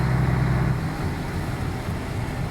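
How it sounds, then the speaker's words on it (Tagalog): A vehicle engine runs steadily while the driver shifts up into high gear without using the clutch, a low droning motor with a slight dip in pitch during the change and no talking. "Kailangan malaman mo rin yung tunog ng makina."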